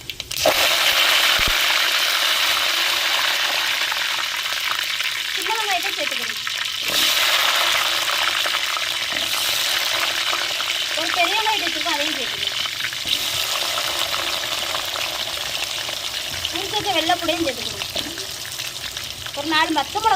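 Mustard seeds, fenugreek and curry leaves sizzle steadily in hot oil for an onion kuzhambu, a broad continuous crackle running throughout with a few spoken remarks layered over it.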